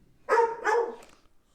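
A dog barks inside a house, two close, loud barks in quick succession followed by a fainter trailing yelp, with no talking.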